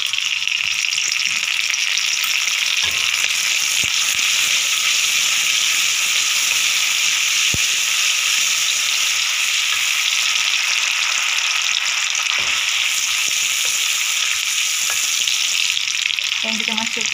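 Ground chili paste sizzling and frying steadily in a pan for sweet-and-sour pomfret, a loud continuous hiss with occasional stirring clicks and no talk.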